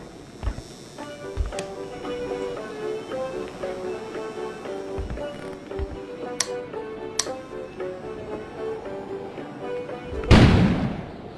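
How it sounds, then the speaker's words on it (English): In the snowbound video game Kona, an explosion outside arrives as one sudden, heavy boom. It follows a quiet stretch of ticking and faint ambient tones. "An explosion suddenly occurred outside."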